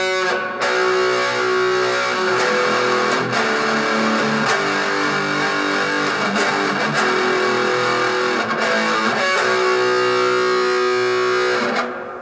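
Distorted electric guitar plays the chorus riff of a song, with chugging palm-muted strums and open hits, loud and steady throughout with no talking.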